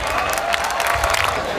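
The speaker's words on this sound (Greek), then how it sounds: "Ένα μεγάλο χειροκρότημα στους εθελοντές." A music festival crowd applauds and cheers the volunteers, a loud, dense burst of clapping with a few whoops over it.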